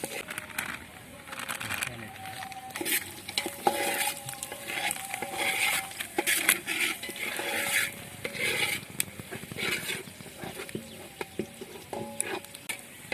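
Coriander masala being stirred and mixed in a metal pan for chicken, with steady scraping and clinking of a spoon against the pan and faint sizzling, while a person talks throughout.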